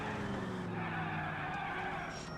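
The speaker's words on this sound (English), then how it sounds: "let's test out this car and see what it can really do, shall we?" A car in the video game L.A. Noire skids hard, a loud sustained tire squeal over the engine drone, continuous for a couple of seconds with no speech.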